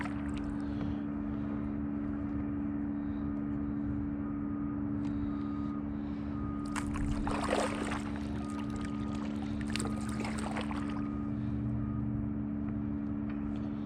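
A canoe is paddled across open water away from construction, with faint water swishes and splashes over a steady low background hum, quiet and close.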